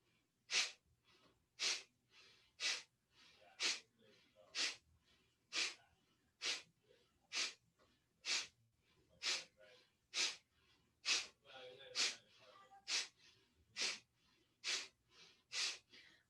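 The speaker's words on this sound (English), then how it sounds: "Exhale completely." Deep pranayama breathing with full exhales, a close, steady rhythm of about sixteen forceful breath pulses roughly one second apart, heard alone without talking.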